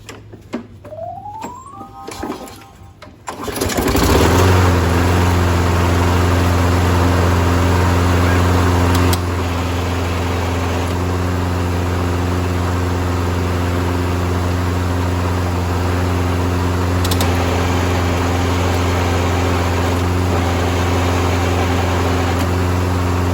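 A small engine with an auto choke carburetor fires after a pull start, then settles into a loud, steady idle with a constant droning hum, close up, running alone after a brief rattle of starting noises.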